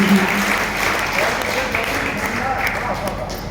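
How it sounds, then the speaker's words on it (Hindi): An audience at a Hindi poetry recitation breaks into hearty applause for the poets, a thick, continuous roar of clapping from a large crowd that holds steady throughout. "एक बार उनके लिए जोरदार तालियां हो जाए आपकी"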